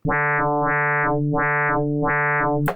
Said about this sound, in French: vous reconnaissez ce son, c'est le son de la FM